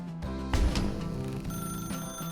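Old-fashioned telephone bell ringing in The Stanley Parable, a steady electronic ring repeating over the short stretch, fairly clear with no voices over it.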